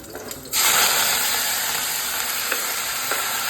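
Chillies and onions hit hot oil after a brief pause, bursting into a loud, steady, close-up sizzle that holds evenly to the end with scattered small pops.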